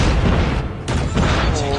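Gunfire and booming blasts from the video game Call of Duty Mobile form a loud, dense, continuous barrage, with a player talking excitedly over it.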